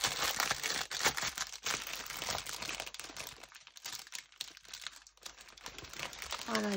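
A plastic packet of special diamond-painting diamonds being torn open and handled, continuous crinkling and crackling close to the microphone, loud and busy throughout.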